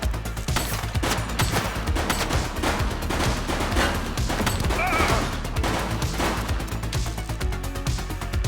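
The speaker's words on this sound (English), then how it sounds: "Shots fired!" Dense, continuous bursts of gunfire in a police video game fill the scene loudly and nearly without pause, with rapid overlapping shots and crashes.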